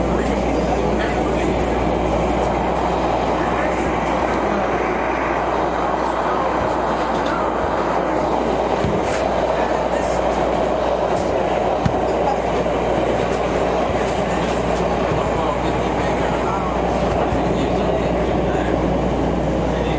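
Chicago subway train running through the State Street subway, a steady loud rumble of wheels and car noise throughout with faint rhythmic clatter and brief squeals, and a voice speaking under it.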